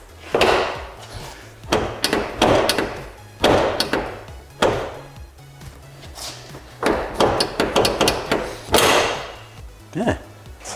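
A carbon fiber front hood on a car is lowered and pushed shut several times, giving a series of loud, close thumps and knocks with short gaps between them.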